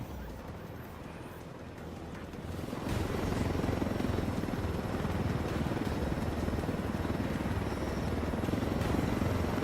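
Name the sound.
helicopter flying in the video game Ghost Recon Wildlands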